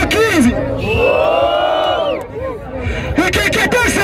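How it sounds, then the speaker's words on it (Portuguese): A crowd at a street rap battle event cheers, whoops and shouts loudly and continuously, with many overlapping voices yelling together in a dense, boisterous roar. "Aí, barulho pras rimas do WLB!"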